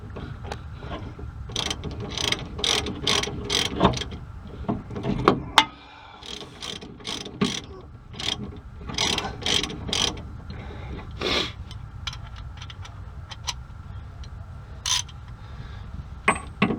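A ratchet wrench clicks in repeated quick bursts while tightening a nut on a Ford F150 tie rod, close and fairly quiet, with metallic handling noises between strokes.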